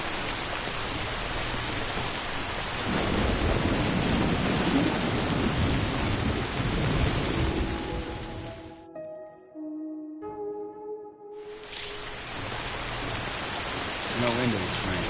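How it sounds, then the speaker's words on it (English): Heavy rain pours steadily in a video game, a dense roaring wash of drops with low thunder rumbling beneath, briefly broken by a gap filled with soft musical tones before the downpour returns. "No end to this rain."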